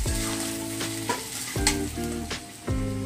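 Hot fried spice tempering poured into a pot of beef tripe curry, giving a loud, continuous sizzle with a few sharp bursts as more oil hits, close by with no talk.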